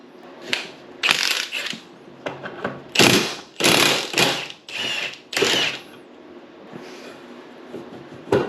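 Someone works on the carburetor secondary of a Yamaha Phazer snowmobile left sitting for five years, removing its bolts. Close, clicky metallic ratcheting and scraping comes in several separate bursts with quiet pauses between them.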